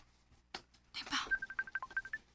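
A phone number is dialed to place a call: after a brief burst of voice and handling noise, a quick run of about nine evenly spaced keypad beeps follows, close and distinct.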